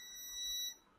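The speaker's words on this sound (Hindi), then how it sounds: "अब हम आपको ग्राउंड से दोनों तरफ बीप देने वाली कॉइल दिखाते हैं।" A steady electronic beep from a multimeter continuity test on an electrical coil checked against ground, a single tone lasting most of a second and swelling slightly midway before cutting off, fairly faint and with no talk.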